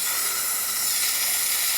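A Mabis steam inhaler running at near full output gives off a loud, steady broadband hiss, unbroken and close, with no speech.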